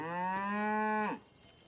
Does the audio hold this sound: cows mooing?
yes